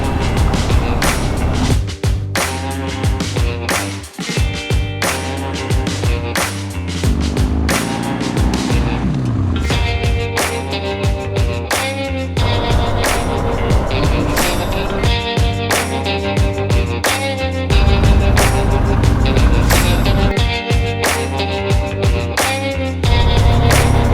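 A group of about forty motorcycles of mixed types rides along a country road in the Hérault gorges, engines droning loudly and continuously with shifting revs and layered exhaust notes throughout.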